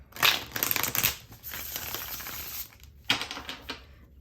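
Tarot cards riffle and snap together in quick bursts of crisp, close shuffling, with short pauses between the runs.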